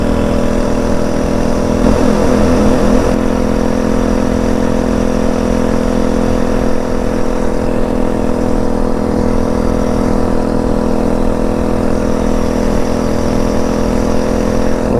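A Phatmoto Rover motorized bike engine drones steadily on a test ride, loud and close with a constant buzzing tone and little change in pitch.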